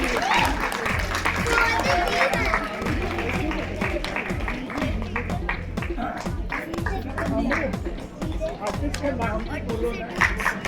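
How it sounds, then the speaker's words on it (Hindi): An audience claps and applauds at an all-India dance competition, dense sustained clapping with some cheering, while voices speak over the crowd noise. "तालियां बंद नहीं होना चाहिए"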